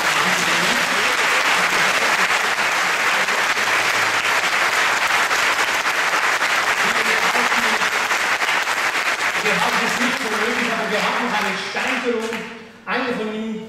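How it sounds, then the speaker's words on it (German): An audience at the Swiss Press Photo Awards ceremony breaks into loud, sustained applause that fills the room, thinning and tapering off near the end as a voice begins speaking. "ein herzlichen Applaus und herzlichen Glückwunsch."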